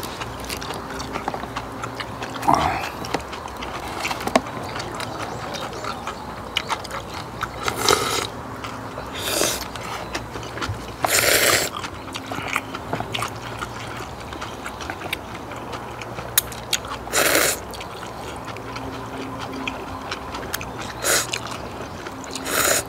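Spicy cold jjamppong with cream shrimp and crispy tangsuyuk being eaten up close, with steady chewing and slurping and occasional louder crunchy bites and sips, almost no talk.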